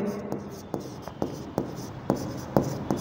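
Pen strokes scratch across paper in short, regular bursts during an accounting lesson, each stroke close and distinct, with roughly eight strokes in steady rhythm and a faint room hum between them.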